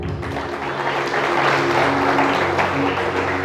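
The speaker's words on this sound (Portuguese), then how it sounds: "Agora resta a você aplaudir a palavra" A church congregation applauds after a sermon, a loud, sustained, even roar of clapping with a low hum beneath it, lasting a few seconds without a break.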